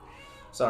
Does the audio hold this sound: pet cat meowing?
yes